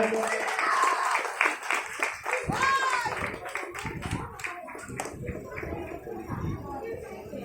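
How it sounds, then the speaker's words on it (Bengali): Audience applause at a stage ceremony, steady broadband clapping spread across the whole span, mixed with a voice speaking over a loudspeaker. "জোরে হাততালি হয়ে যাক।"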